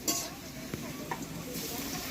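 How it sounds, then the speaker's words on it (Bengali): Desi chicken and onions frying in a pan, a soft steady sizzle broken by a few stirring scrapes and light utensil knocks, fairly quiet and close. "দেশি চিকেনটা দিয়ে নেড়ে চেড়ে জল মরে যাবে"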